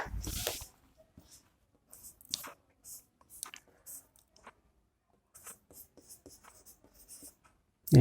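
Marker or chalk strokes on a board during a chemistry lesson on aldol reactions, a string of short scratchy bursts separated by pauses, close and fairly quiet, with no talk.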